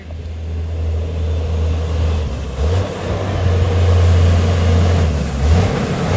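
Truck engine labouring uphill, a loud sustained low drone that shifts pitch a couple of times as it works through the climb, steady and close with no talking.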